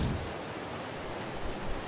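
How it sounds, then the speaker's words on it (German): Steady broadband rushing of water in the video game ARK: Aberration, a continuous even wash with no music, alone and fairly quiet throughout. "Ich höre nur das Wasser rauschen"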